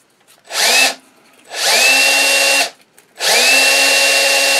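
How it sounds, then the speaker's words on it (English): Bench grinder on a coarse wheel grinding off a catch, in three loud bursts of harsh rasping grind with a steady motor whine, separated by short quiet gaps as the tool is lifted away. "Grind that off."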